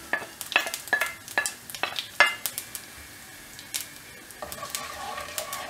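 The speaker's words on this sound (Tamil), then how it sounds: "உளுத்தம் பருப்பு ஆட் பண்ணிடலாம் இதுலேயே சீரகமும் ஆட் பண்ணிடலாம்" Urad dal and cumin crackle and sizzle in hot oil in a pan, with quick bursts of popping and spoon-stirring clatter over a steady frying hiss, no talking.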